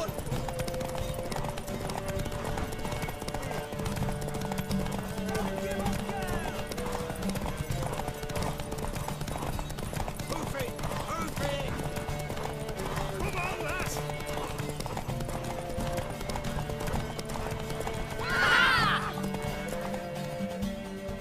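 In a video game, a horse's hooves clip-clop steadily in a galloping rhythm during a race, beneath continuous music and effects, with the horse whinnying briefly near the end.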